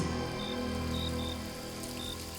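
Steady rain patters on foliage, a dense, even hiss of drops continuing throughout with no voices.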